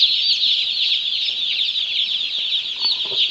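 Many baby chicks in a farm chicken house with ventilation fans running, a dense, continuous chorus of high peeping that holds steady and close throughout.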